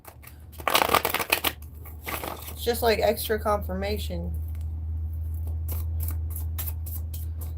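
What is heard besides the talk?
shuffling tarot cards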